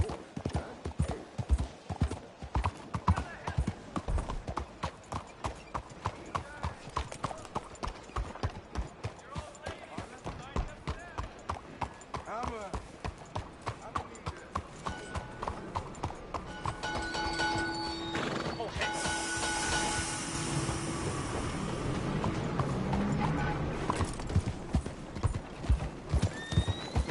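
Steady, rhythmic clip-clop of horse hooves in Red Dead Redemption II continues throughout, with a horse whinnying partway through and people talking over it.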